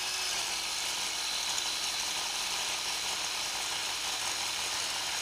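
A cordless drill spins a cylinder hone inside a rebuilt MH33 engine cylinder, giving a steady whirring buzz at low speed that runs continuously without pause and sounds faint, with nobody talking.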